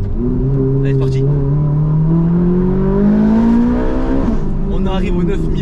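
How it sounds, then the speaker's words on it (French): A Ferrari 458 Italia engine revs hard toward 9000 rpm, its loud, close wail climbing steadily in pitch for several seconds before abruptly dropping off as the throttle lifts. "On arrive aux 9000 tours. La sonorité est folle, on entend."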